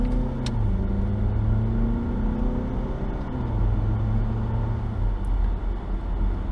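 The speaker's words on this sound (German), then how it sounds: "Und jetzt auch der kurze Sprint auf der Landstraße." A Volvo XC60 with a 190 hp diesel hybrid accelerates along a country road, its steady engine rumble rising in pitch through the sprint, close and continuous with no talking.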